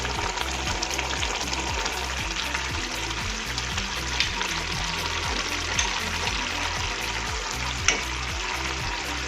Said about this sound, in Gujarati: ઉપરથી આપણે બટર એડ કરીશું.